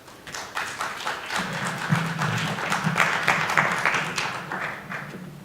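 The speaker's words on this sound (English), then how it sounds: "So let's give him a round of applause." A conference audience claps in a dense round of applause, building quickly and holding steady for several seconds before starting to taper.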